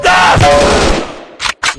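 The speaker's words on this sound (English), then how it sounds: "I'm shooting these fools up!" Rapid video game gunfire, loud and dense at first, then a couple of separate sharp bursts near the end.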